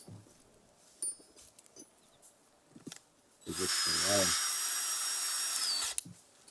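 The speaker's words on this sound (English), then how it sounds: "We need a little drill bit" A small power drill with a little bit whines steadily for about two and a half seconds, boring into a wooden branch close by, after some quiet handling noises and a brief voice.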